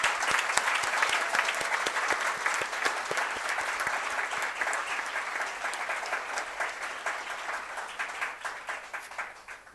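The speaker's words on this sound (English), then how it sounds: "I want every one of you to once again applaud your family members" Graduates at a PGDM convocation ceremony applaud their family members, a sustained crowd clapping with distinct sharp hand claps, steady and fairly close, tapering slightly toward the end.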